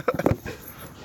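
A dog gives a quick cluster of short, high whimpers and yips, close and fairly loud, fading into quiet room noise within about a second.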